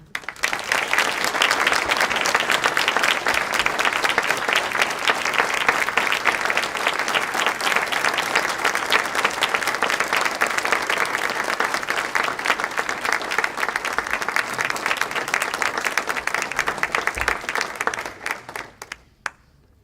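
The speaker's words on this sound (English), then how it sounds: "And Jim, I ask you to join me and receive due applause for all of the work that you have done." Audience at an annual awards breakfast gives a long, sustained round of applause, thick continuous clapping from a sizable crowd that holds steady for many seconds before tapering off near the end.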